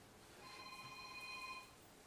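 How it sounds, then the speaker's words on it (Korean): A telephone rings with an incoming call, a steady electronic tone held for about a second, fairly faint and heard alone against a low background hiss. "전화 왔습니다."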